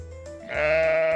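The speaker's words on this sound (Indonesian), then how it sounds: "Huruf D untuk domba." A sheep gives a single loud, drawn-out bleat that rises in pitch partway through and holds steady until the end, close and clear with no talk.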